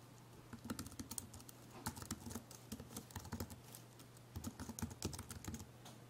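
Faint, quick tapping of keys entering a login on an iPod 5th generation, a steady patter of soft clicks over a low hum, with no voices.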